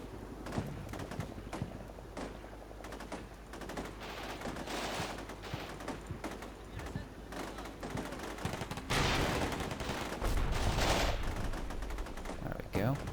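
Machine gun fire in the war game Combat Mission: Shock Force 2, a civil war scenario: dense, continuous bursts of gunfire and thuds through the whole stretch, growing louder and heavier toward the end.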